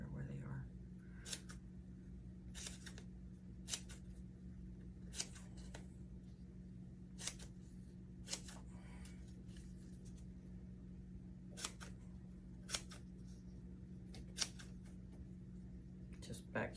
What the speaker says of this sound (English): so I'm gonna cut that little thing off